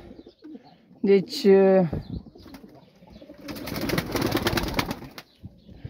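A pigeon coos in a low, throaty run near the mic, then wings flap in a loud, sustained flutter, while someone speaks briefly.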